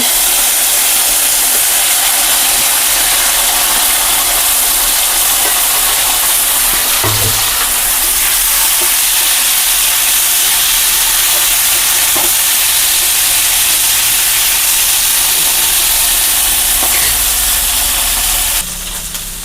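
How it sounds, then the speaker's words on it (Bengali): Potato pieces frying in hot oil for a fish and vegetable curry make a loud, continuous roaring sizzle up close, steady for many seconds with only small crackles and no talking. "এখন আমি আলুগুলা ফ্রাই করে নেব।"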